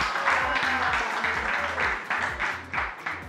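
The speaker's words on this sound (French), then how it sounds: "Je vous demande de les applaudir, s'il vous plaît." Audience clapping at the finale of a youth talent competition, loud and close with distinct rhythmic claps bunched in bursts.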